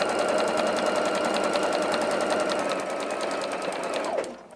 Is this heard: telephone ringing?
no